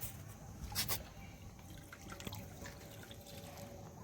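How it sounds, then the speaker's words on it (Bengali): Diluted oil-cake water poured slowly onto marigold plants, soft trickling and dripping close by, with a brief splashier pour early on and quieter dribbles after; no speech. "এই খোল জলটা দিয়ে দেবেন"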